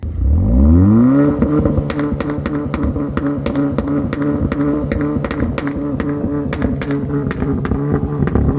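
A tuned Hyundai Veloster JS engine revs up sharply at the start, then settles into a loud, rumbling idle with a throaty, burbling exhaust note from a valved exhaust with a resonator.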